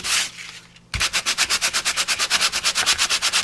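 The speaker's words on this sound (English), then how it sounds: "pulled out a piece of trusty sandpaper, and if I sanded those high ridges" Sandpaper scrubs the high ridges on a handmade card in a fast, steady series of about twenty rasping back-and-forth strokes. A single longer sweep comes first.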